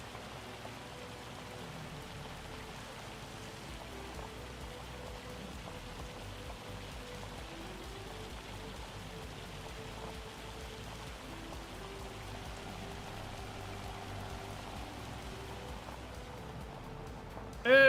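Sleet falls in Farming Simulator 25 as a faint, steady patter and hiss like light rain on a surface, continuing evenly throughout with a low hum beneath and a sudden sharp sound at the very end.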